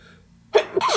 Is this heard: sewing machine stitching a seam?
no